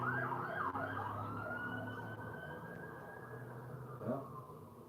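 Police car sirens wail continuously as several cruisers pass nearby, overlapping rising and falling tones over road rumble, with a brief louder swell toward the end.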